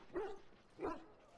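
Two separate dog barks, moderately close and fairly quiet, spaced about half a second apart, from dogs in the Dragon Age: Origins video game.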